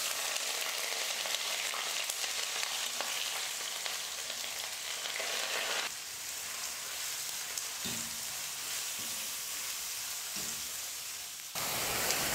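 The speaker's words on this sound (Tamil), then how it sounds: "வெங்காயம் பார்த்தீங்கன்னா இந்த அளவுக்கு நல்லா கொஞ்சம் கலர் மாற வரைக்கும் வதக்கிக்கோங்க." Onions, slit green chillies and curry leaves sauté in hot oil for an egg drop curry, giving a steady broadband sizzle throughout with a few soft stirring knocks near the end and no talking.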